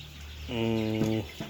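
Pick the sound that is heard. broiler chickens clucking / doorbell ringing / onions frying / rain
broiler chickens clucking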